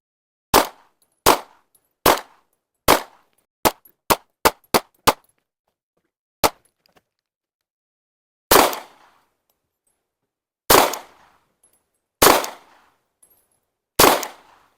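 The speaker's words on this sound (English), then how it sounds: "let's try it out and see if we can zero in the Glock" Glock pistol fired while zeroing, a string of sharp close shots, first at a steady pace, then a quick burst, then slower single shots with echoing tails.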